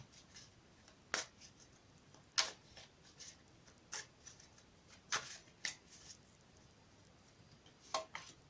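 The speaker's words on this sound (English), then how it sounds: "I've already shuffled the cards, but I'm going to give them another quick shuffle" Several brisk bursts of tarot cards being shuffled, crisp riffling flutters at irregular intervals over a quiet room.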